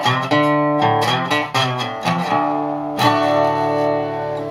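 A resonator guitar in drop D tuning playing a signature lick, a run of bright twangy plucked notes with slides and ringing sustain, close and alone with a little reverb.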